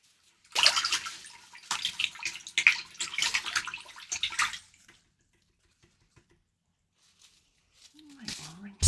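A paintbrush is swished and rinsed in water after acrylic aurora painting, with several seconds of close splashing and sloshing, then quiet and a faint voice near the end.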